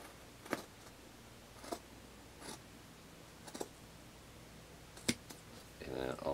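Fabric scissors snip the hands off a stretchy bodysuit for a cosplay muscle suit, a few sharp, quiet cuts spaced apart, ending with a soft rustle of fabric.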